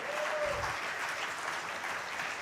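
An audience at a chemicals and petrochemicals summit in Gujarat applauds itself, a dense, steady wash of many hands clapping at moderate distance with no voices over it.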